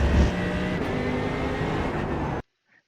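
A Mercedes AMG GT3 racing engine at the Fuji circuit in the iRacing video game drones steadily at high revs, then cuts off abruptly, leaving near silence.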